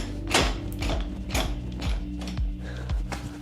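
An old, rusty jetski trailer winch assembly is worked by hand, making close, loud ratcheting clicks and gear grinding in a repeating rhythm of about one turn every half second.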